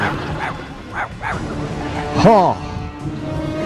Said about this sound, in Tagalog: Ang kinakatakutang aso sa ilalim ng lupa. Siya ang Demon Dog.